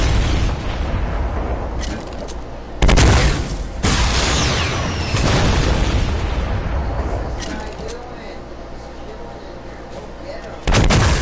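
Rocket explosions in the Fortnite video game boom repeatedly amid dense gunfire, with loud blasts near 3 and 11 seconds over constant game noise and occasional talk.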